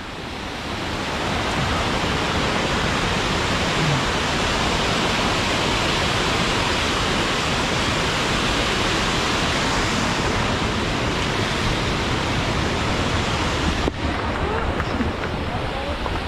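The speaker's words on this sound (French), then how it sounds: "cascade de la Doria" Doria waterfall cascading in the mountains beside a trail race, a steady loud broadband roar that fills the whole scene without pause, with a faint voice briefly heard.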